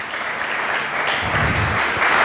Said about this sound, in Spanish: dale un aplauso al Señor entonces